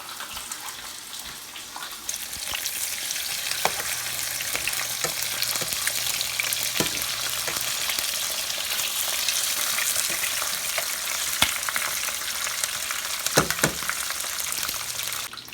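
Rice simmers in a pot of water, a continuous soft bubbling hiss with occasional small pops and clicks, close by and steady throughout.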